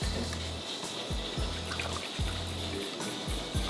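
Water poured by the cupful into a cooking pot for mawa halwa, a close, continuous trickling splash with regular gulping surges as each pour lands. No speech.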